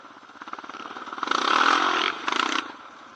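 Honda TRX700XX and Yamaha Raptor 700R SE ATV engines race around a track, one engine's buzz rising to a loud rev, cutting briefly, then revving again before fading.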